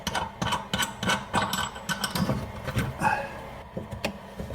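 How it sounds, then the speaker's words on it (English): A bathroom sink stopper valve being unscrewed gives off a close series of small ratcheting clicks and rubbing metallic scrapes in an irregular rhythm, quiet and without talk. "Take this stopper valve off, and this will"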